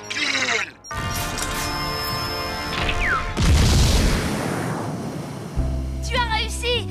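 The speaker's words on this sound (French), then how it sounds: "Tu as fait exploser Proto Boy!" A cartoon explosion blows up a robot character: a deep boom and crashing rumble swell amid whooshing, zapping effects and a music-like backdrop, followed by lighter chirping effects.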